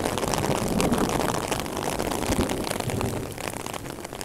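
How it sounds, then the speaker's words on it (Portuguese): Heavy rain pours down during a storm in Normandy, a dense, constant hiss of drops hitting surfaces that stays loud and even throughout. "Caramba, que chuva!"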